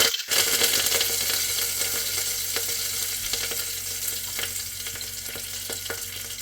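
Curry leaves frying in a spoonful or two of hot oil in a pressure cooker, with bay leaf, give a steady, dense sizzle that holds evenly close by, with a few faint crackles and no talking.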